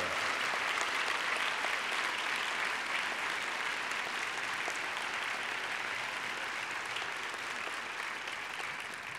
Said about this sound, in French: Applaudissons nos invités d'honneur.